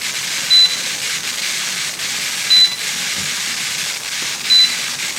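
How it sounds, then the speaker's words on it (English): A Presto Precise electric canner vents with a steady, loud hiss while short electronic beeps sound three times at regular intervals, about two seconds apart. "it's going to count itself down, and then it's going to beep and say, put the regulator on"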